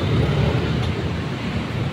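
Taxis rolling in from EDSA to a loading area at the North EDSA MRT 3 station, a steady broad roar of road traffic and idling engines without pause, close and fairly loud.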